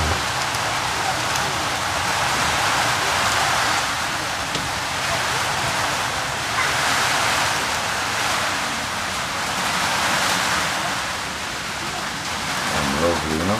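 Steady heavy rain pours outside during a family cooking session of conch soup, a dense continuous hiss of drops on surfaces, loud and unbroken, with faint voices and a few knocks under it.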